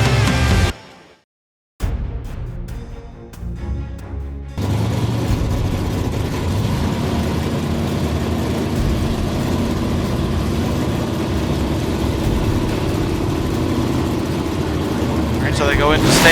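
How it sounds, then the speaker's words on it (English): A drag race car at the NMCA All Star Nationals launches with its front wheels up, giving a loud sustained engine roar after a brief cutout. Crowd and track noise sit underneath and a voice talks over it. "Oh, look at the wheels up launch."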